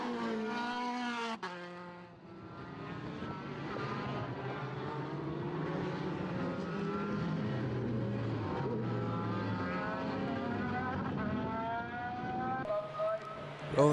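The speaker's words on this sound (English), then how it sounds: "Noel Robinson passes us in the foreground." Formula BOSS racing car engines roar past one after another at Mondello Park, Ireland, a loud continuous drone with shifting pitch, rising and falling as the cars go by, with commentary over it.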